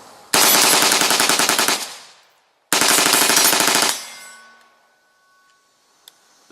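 Two long bursts of rapid automatic-style fire from an AR-15 type rifle fitted with a bump stock, loud and close, each lasting over a second and separated by a short pause, with ringing tail-off and a faint metallic tick afterward.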